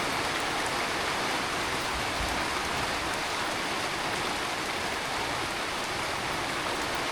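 Heavy rain pours down on a rural morning, a dense, even hiss that holds steady for the whole stretch with no voices.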